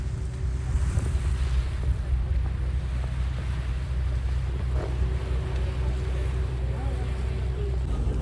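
A low, steady engine drone of a boat on the sea near the Gateway of India, Mumbai, with wash and wind noise over the hum and faint voices in the background.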